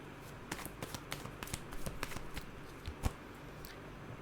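A tarot card is drawn from a deck, giving soft close papery flicks and light shuffling taps, quiet and scattered across the moment, with a small sharp tap near the end and no talk.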